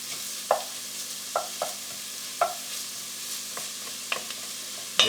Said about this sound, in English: saute that for about a minute. Garlic, onion, celery.